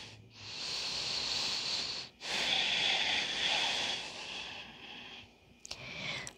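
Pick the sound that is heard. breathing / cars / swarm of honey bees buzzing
breathing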